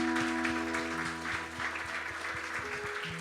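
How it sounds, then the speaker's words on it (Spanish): A church congregation claps steadily and warmly, a sustained round of applause over soft background music. "Demos aplausos una vez más, hermanos."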